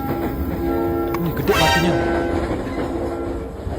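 A KRL commuter train runs with a steady, close rumble and a sustained horn-like tone in the middle, while a voice briefly speaks over it.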